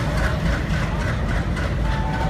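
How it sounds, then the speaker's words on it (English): A diesel locomotive is uncoupled and pulled away at Daund Junction, where twin WDG3A diesels give way to a WCAM3 electric. A loud, continuous low engine rumble with faint rail clatter runs throughout. "We are now witnessing the decoupling and taking away the diesel locomotive"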